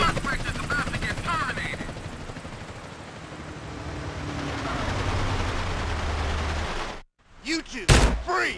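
A police helicopter in the video game GTA San Andreas thumps with rotor chop over a chase, steady and moderately loud, with game voices, gunfire and a brief cut near the end.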